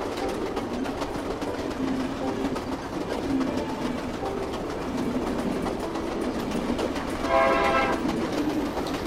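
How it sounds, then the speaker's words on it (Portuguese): A train in the video game The Final Station rumbles steadily with railcar clatter, and a short tonal whistle blast rises near the end over the continuous noise, with no talk. "Ao ouvir o apito do trem, é só sair do trem o mais rápido possível"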